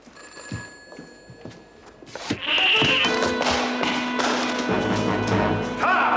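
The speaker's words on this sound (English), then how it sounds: "Oh, dear, the phone again." An old-fashioned telephone bell rings insistently after some light tapping and thuds, the ringing continuing loud and steady to the end.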